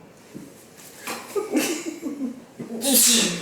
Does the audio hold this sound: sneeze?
yes